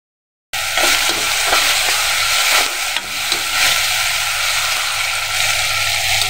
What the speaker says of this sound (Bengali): ভেজে নেব এখন।